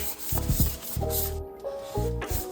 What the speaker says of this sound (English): now that I'm done sanding it down